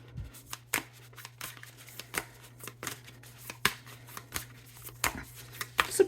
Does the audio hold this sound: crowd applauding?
no